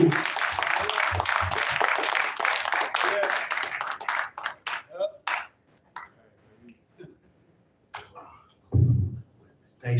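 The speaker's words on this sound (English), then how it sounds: "give a round of applause for my brother" Audience applause at a live political event, a dense burst of clapping that thins into scattered claps and fades, with talk emerging at the end.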